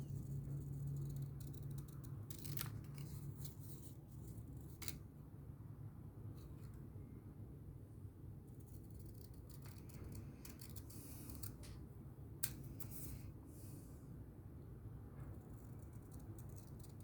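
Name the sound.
cutting with scissors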